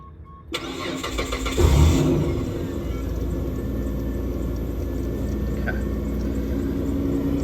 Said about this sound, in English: now we're just going to start the car, make sure that it's working and there's nothing leaking